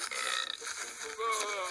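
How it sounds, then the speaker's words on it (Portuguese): A child lets out a long, drawn-out burp, loud and close, with voiced rumbling stretching through most of the moment, followed by a higher gurgling tail. "quase que eu também morri com meu arroto"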